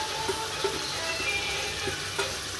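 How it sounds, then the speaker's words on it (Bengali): Chicken marinated with ginger-garlic paste and spices sizzles and fries steadily in a pan as it is sautéed for kosha, with a few soft stirring clicks and scrapes throughout. "তো এবার এটাকে ভালো করে কষানো হবে।"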